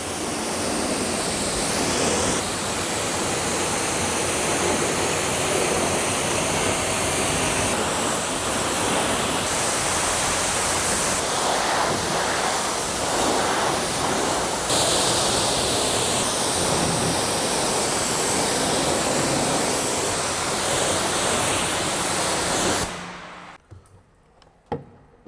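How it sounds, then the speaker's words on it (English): A Jeep being rinsed with water from a hose, a loud, steady rushing spray close by that shifts slightly in tone, then cuts off abruptly near the end, leaving near silence. "Let's rinse this thing off, see what's left."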